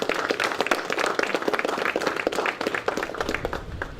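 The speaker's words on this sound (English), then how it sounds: "they deserve a round of applause" Crowd at a community gathering in Buccoo, Tobago, clapping in a lively, uneven burst of applause, fairly close and continuous with no speech over it.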